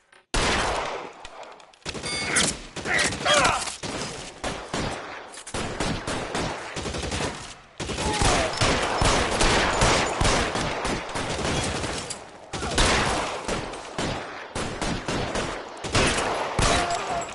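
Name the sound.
gunfire in the video game L.A. Noire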